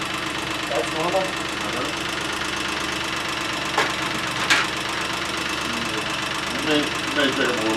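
A Geo car engine idles close by with a steady low rumble and a fast light ticking from its lifters, while voices talk briefly over it.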